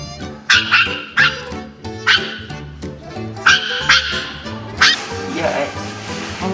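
A small dog gives a run of sharp, close barks and yips in an irregular rhythm, ending in a whimpering sound.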